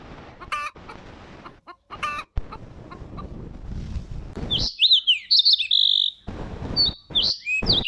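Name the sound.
chickens clucking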